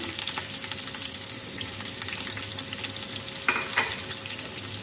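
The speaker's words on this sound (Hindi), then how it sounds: "प्याज को हम फ्राई कर लेते हैं।" Roughly chopped onion sizzles steadily in hot oil for a potato and egg curry, a continuous close frying hiss with a couple of sharper stirring scrapes near the end and no voices.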